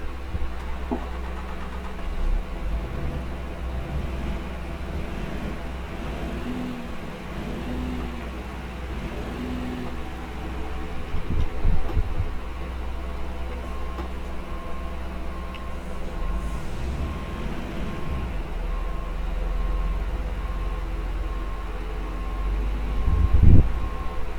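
A Temsa Safir coach bus in Euro Truck Simulator 2 starts up and then idles, a low steady diesel rumble that holds throughout with slight surges and a brief rev near the end, no voices present.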